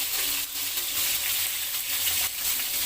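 Salted, turmeric-coated hilsa fish pieces sizzle in hot oil after being turned, a loud, close, continuous crackling hiss with a few brief dips.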